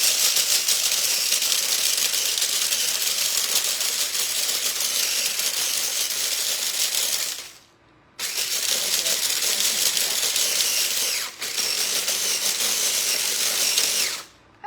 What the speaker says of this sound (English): I'm going to grind these and see if they come to dust.